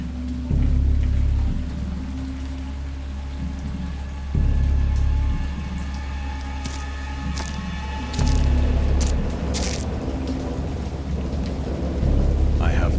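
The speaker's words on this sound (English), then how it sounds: "I heard pearls of thunder and other tones which nature utters only in her wildest moods" Heavy rain pours steadily while deep rumbles of thunder roll in waves, swelling loud several times across the storm.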